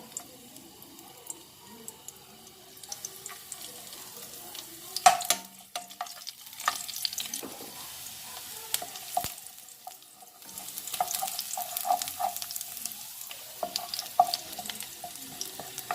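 Chopped garlic lightly roasting in oil in a pan gives a quiet, steady sizzle, broken by a few sharp clinks and louder stirring scrapes partway through.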